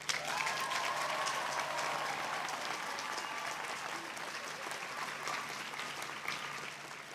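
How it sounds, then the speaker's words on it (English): A commencement audience at a Pacific University graduation applauds the graduates, a steady, even wash of many hands clapping from a distance, fairly soft and sustained throughout. "You may now applaud these graduates."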